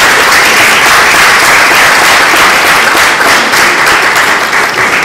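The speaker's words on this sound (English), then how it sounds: "he deserves a round of applause" Loud, steady applause from a large audience at a health summit, dense uninterrupted clapping filling the whole stretch at constant volume.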